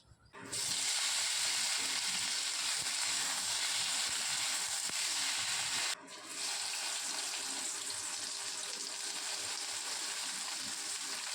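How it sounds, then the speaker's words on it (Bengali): A steady, loud hiss and bubbling of soybean curry with onion and ginger boiling in a pan, continuous with a brief dip midway, no voices. "সয়াবিন ফুটছে"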